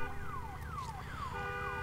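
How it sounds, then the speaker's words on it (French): Alarm in the Days Gone video game, a loud repeating falling electronic wail sweeping down in pitch about every half second, steady and continuous over a low rumbling background. "On va éteindre l'alarme."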